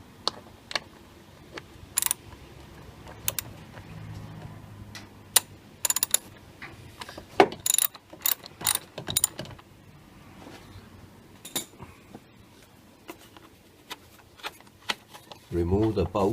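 A 13mm ratchet clicks in quick sharp bursts while loosening the battery bracket bolt on a VW Polo 1.4 16v, close metallic ticks scattered across the stretch with a voice talking throughout.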